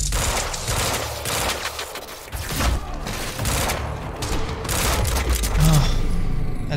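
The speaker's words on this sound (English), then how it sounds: "that burst pistol sucks" Burst pistol fire in the shooter game Quantum Break, heard as repeated rapid volleys of shots over a continuous, busy layer of game noise, fairly loud and close.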